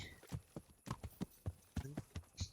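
Horse hooves clip-clop in a steady rhythmic gait in the medieval video game Kingdom Come: Deliverance, a series of distinct close hoofbeats with little else around them.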